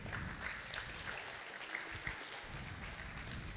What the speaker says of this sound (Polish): Także wielkie brawa dla panów,